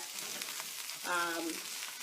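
Garlic being stirred in a hot pan on a stovetop, a steady close sizzle with a brief louder scrape of the spoon partway through, no talking.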